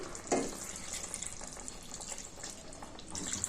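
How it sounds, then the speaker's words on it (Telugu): Water is poured into a pot of okra and mango pulusu curry, a continuous soft splashing trickle lasting several seconds at close range, quiet and without talk. "దీన్ని కొంచెం వాటర్ కలుపుతాను, ఎందుకంటే చిక్కగా అయిపోతుంది"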